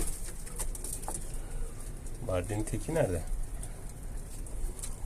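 Pigeons in a coop, a low cooing call rising briefly near the middle against a quiet background with soft rustling, while someone speaks.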